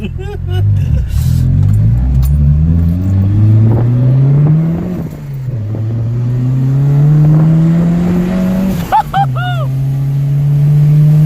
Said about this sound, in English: That's a great fucking pull in third gear